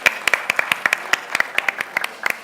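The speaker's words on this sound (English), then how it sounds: "So can we have a huge round of applause for Faiz," A small audience at a talk on talent acquisition gives a brief round of applause: sparse, distinct handclaps from a few people, close and uneven, over a faint room hum with no voices.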